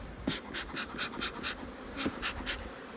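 Honeybees buzzing around a nuc hive during a split, a close, steady drone with repeated louder pulses as individual bees fly past, no talk.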